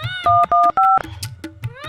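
Three short electronic dialing beeps in quick succession as a phone is dialed, loud and close, followed by a faint electronic warble and soft clicks.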